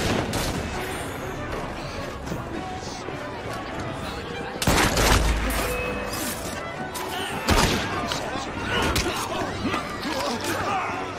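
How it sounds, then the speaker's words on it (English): A volley of pistol shots rings out in the video game Assassin's Creed Syndicate amid ongoing combat noise and chatter, with two sharp loud blasts standing out over a dense, busy background of crowd and fighting sounds. "Pistols at the ready. Fire!"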